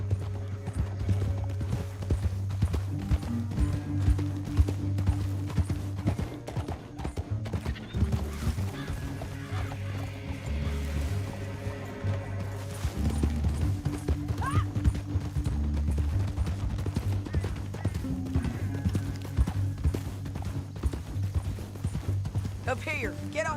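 Horse hooves gallop in a steady, driving clip-clop in Red Dead Redemption 2, continuous and close under a music score, with in-game voices speaking over the ride and an occasional whinny.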